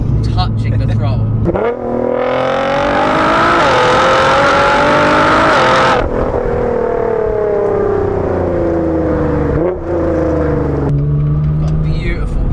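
A tuned 660 BHP Litchfield Nissan GT-R engine revs loudly under throttle, its tone climbing and holding before dropping back to a deep idle and rising again, close and dominant, with voices talking over it.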